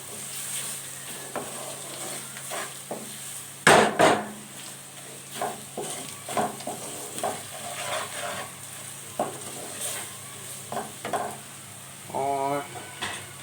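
Spices being stirred into golden-brown frying onions in a pan: sizzling runs throughout under repeated scraping stirs, with a loud utensil clatter near the start and softer knocks of the spoon against the pan.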